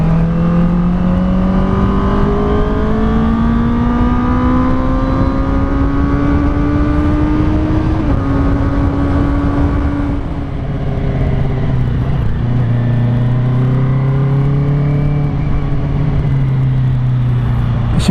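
Motorbike rides steadily along a lightly trafficked lane in Saigon, its engine note loud and close, rising and dipping in pitch as it speeds up and eases off, with no talk.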